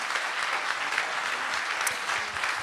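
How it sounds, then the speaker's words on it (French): A radio station's 10th-anniversary stage show in 2016 ends with a live audience clapping: dense, steady applause filling the hall throughout, with no voices over it. "Mesdames, messieurs, un tonnerre d'applaudissements s'il vous plaît pour Juliette, Victoria, Awa"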